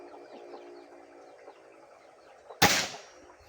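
After a few quiet seconds of faint background chatter, a single sharp pop of a Taurus air rifle shot cracks out, close and abrupt.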